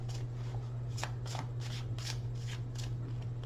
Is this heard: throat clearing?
no